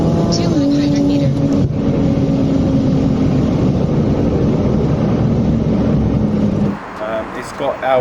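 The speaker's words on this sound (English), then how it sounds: "It's got our titanium exhaust tips along with our full 3-inch stainless steel exhaust system. Our headers as well. It sounds epic." Porsche 997.2 with a full 3-inch stainless steel exhaust, headers and titanium tips accelerating hard, a loud, close engine roar climbing in pitch through the gears before cutting off, with talk over it.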